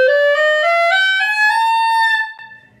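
Clarinet held on a sustained tone with a low 'ha' tongue position, giving a bright, edgy sound; a single close, loud note with a slight upward bend that cuts off near the end, no talk over it.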